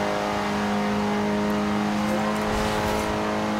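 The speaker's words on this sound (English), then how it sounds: "We just cannot get this damn engine to shift, though." A car engine in the racing game Forza Horizon 2, stuck near 107 mph without shifting on an uphill stretch, drones as a loud, constant high-revving tone with steady harmonics throughout.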